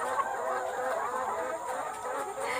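Around a thousand laying hens in a homemade wooden-and-mesh coop, a dense chorus of overlapping clucks and murmuring calls, steady and moderately close.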